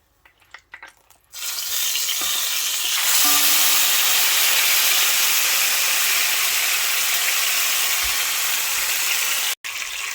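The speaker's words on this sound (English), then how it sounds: "the first 2 fish is done frying, and I'm gonna add the last one" Fish frying in hot oil for Jamaican stew fish gives a loud, steady sizzle that starts abruptly and hisses continuously for several seconds.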